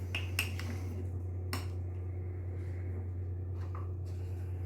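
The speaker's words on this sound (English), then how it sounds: "Get a spoon out. Give it a good old scrape around." A metal spoon scrapes and clinks around the inside of a glass jar of sourdough starter, a few sharp taps and scrapes standing out over a steady low hum.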